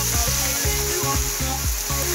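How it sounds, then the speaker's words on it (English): Brussels sprouts in a pan with water just added, hissing in a loud, continuous sizzle with a low, regular bubbling pulse beneath it. "Add that in there until they stop sizzling again."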